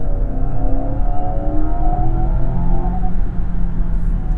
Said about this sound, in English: You can actually choose from 3 different fake noises that play on the inside of the car